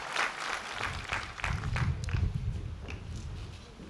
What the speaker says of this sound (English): And a round of applause.